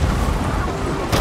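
A ship's cannon firing in the video game Sea of Thieves during a pirate ship battle: a heavy, booming blast that fills the short moment, with another sharp burst right at the end amid dense battle noise.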